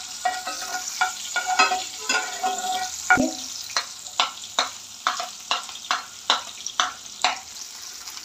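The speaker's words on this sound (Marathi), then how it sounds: "कांदाही आपल्याला छान असा गोल्डन ब्राऊन कलर येईपर्यंत परतून घ्यायचा आहे" Thinly sliced onion frying in a pan with chillies, a bright sizzle under a regular rhythm of spatula scrapes and taps as it is turned toward golden brown.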